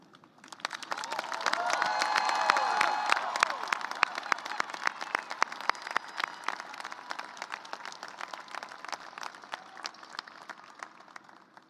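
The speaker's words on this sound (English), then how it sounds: "Family, friends, and fellow students, join me in applauding their success." A university commencement audience breaks into applause for graduating honors students, the clapping swelling from quiet to a full, dense roar within two seconds, then holding steady with sharp individual claps and faint cheers.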